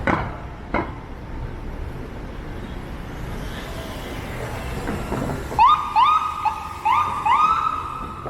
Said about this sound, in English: Not sure where this ambulance is trying to go.